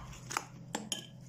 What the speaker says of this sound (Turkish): 3 yemek kaşığı un ve 1 paket kabartma tozumuzu ilave ediyoruz. Güzelce karıştırıyorum.